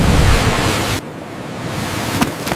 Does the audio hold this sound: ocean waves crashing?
yes